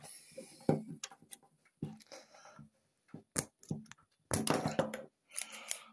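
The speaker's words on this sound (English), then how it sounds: "let me just put this down and cut that bloody wire" Household scissors snipping through wiring during a fuel pump replacement on a Jaguar XK8, a series of short, sharp clicks and snips with quiet handling sounds between them and a denser burst of cuts near the end.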